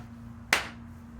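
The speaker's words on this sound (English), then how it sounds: "Do you want to give us another clap?" A single sharp hand clap marks the start of an interview recording, close and loud against a low steady hum, with no talk.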